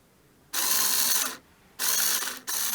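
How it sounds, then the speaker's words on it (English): A crosshead screwdriver turns out a screw from an IKEA floating shelf bracket, making two long bursts of ratcheting clicks with a short pause between them and a third burst starting at the end, close and clear with no talk. "this is a crosshead screw, so you need your crosshead screwdriver"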